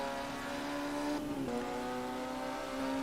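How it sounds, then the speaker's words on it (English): Formula Junior race cars in the Automobilista 2 sim racing game at the Nürburgring, their shrill, buzzy engines droning steadily with a pitch dip as one shifts or lifts, then holding a high whine. "just listen to these hairdryer engines"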